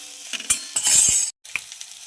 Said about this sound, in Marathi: छान परतून घेऊ याला